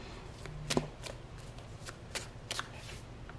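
Tarot cards shuffled by hand at close range, giving quick papery riffles and flicks with a sharper snap as one card is drawn, in short irregular bursts over a quiet background.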